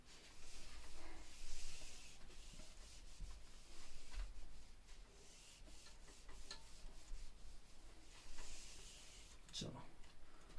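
A board being rubbed clean by hand, with repeated scrubbing strokes in uneven bursts, close and moderately quiet, under a teacher's talk.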